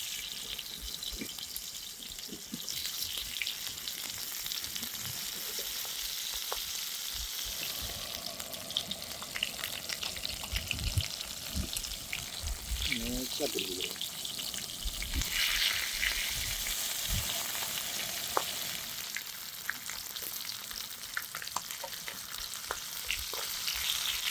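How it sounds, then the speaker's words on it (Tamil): Masala-coated stone fish from a dam fries in oil on a flat tawa, a continuous bright sizzle with occasional scraping and stirring, close and steady throughout. "இந்த அடுத்த செட்டை நம்ம மீன் பொரிக்க போகிறோம்"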